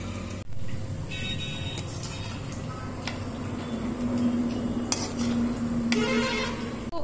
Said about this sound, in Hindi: हम इसमें ऐड कर देंगे अपना चिकन